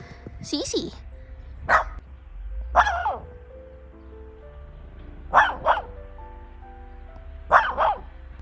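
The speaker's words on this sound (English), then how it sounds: "Who are you barking at?" A dog barks several times in short clusters, near and loud, with a faint tonal background between the barks.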